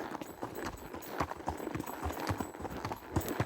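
Hooves of horses clip-clop at a state park horse camp, quiet and fairly close, with a steady uneven patter of light hoof strikes and soft background rustle.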